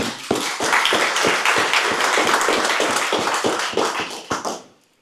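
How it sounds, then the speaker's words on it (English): A crowd claps steadily in a dense, close burst of applause that lasts several seconds and then fades out. "another round of applause"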